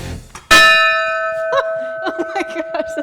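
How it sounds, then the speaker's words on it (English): An old fire station bell at a firefighters' museum struck once, a loud, sudden clang with a long sustained ringing tone that decays slowly while brief voices and movement sound underneath. "Here you go, ring the bell."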